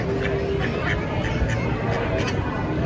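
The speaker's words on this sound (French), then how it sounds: "Extraordinaire les canards assortis." Several ducks quack on and off against a steady outdoor background at Disneyland Paris, the calls moderately close and overlapping.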